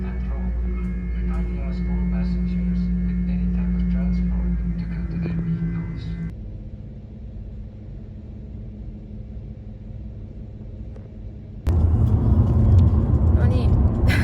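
Inside a car on the road, seen from the back seat, a low engine and road rumble hums steadily. The tone shifts partway through and grows louder near the end, while people talk over it.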